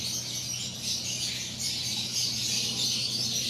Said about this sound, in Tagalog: Ito yung magulang ng idodonate ni Boss na ibon.